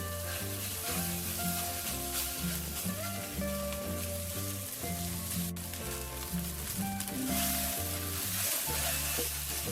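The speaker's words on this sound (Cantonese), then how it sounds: "煎到佢兩面都微黃嘅時候咧" Rice noodle rolls sizzle steadily in a non-stick wok as they pan-fry, a continuous crackling hiss with occasional stirring scrapes, while background music plays throughout.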